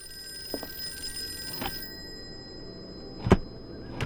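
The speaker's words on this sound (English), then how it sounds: "It's gonna let that phone continue to ring, huh?" A telephone bell rings in a Call of Cthulhu game scene, a couple of short rings spaced apart over a quiet background hum, with a louder burst near the end.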